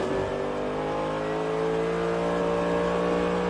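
Race cars, a Porsche among them, drone steadily past during the Sebring 12 Hours endurance race, their engines a loud continuous roar with rising revs throughout.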